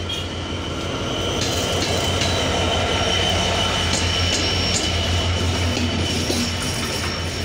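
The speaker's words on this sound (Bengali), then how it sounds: "6626 লোকোমোটিভ নিয়ে খুলনা থেকে ছেড়ে আসা চিলাহাটিগামী আন্তনগর রূপসা এক্সপ্রেস" The Rupsha Express intercity train, hauled by locomotive 6626, rolls into the station with a loud, steady rumble of wheels and carriages, faint metallic squeals and rhythmic clicks over the rails.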